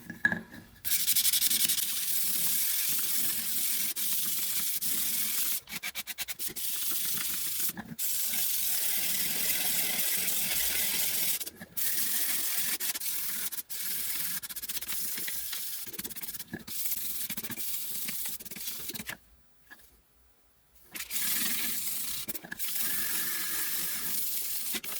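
A whittling knife blade is stroked steadily across a 220 grit sharpening stone, giving a continuous close-up scraping hiss with a brief pause partway through, no voices.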